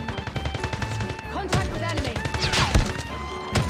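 Repeated gunshots in a mobile shooter game from a shotgun set up for sniping, closely spaced cracks and bursts over a busy mix of game music and effects, with a voice talking underneath.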